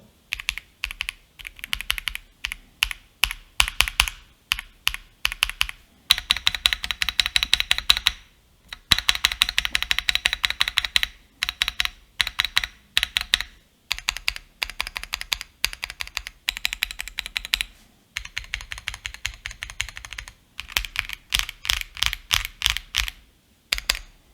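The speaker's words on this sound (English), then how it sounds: "Quick sound check on the snow blue gray Echo switches, unmodified switches, stock keyboard" Rapid clacky typing on a stock Monsgeek M1 mechanical keyboard with unmodified snow blue gray Echo switches, steady bursts of crisp keystrokes with brief pauses, close and alone with no voices.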